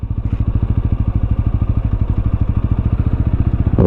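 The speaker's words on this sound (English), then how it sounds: "You just release the clutch slowly and bike will move." TVS Apache RTR 200 4V motorcycle pulling away on the clutch alone with no throttle, a steady low engine thump pulsing evenly and close throughout, a slight rise at the very end.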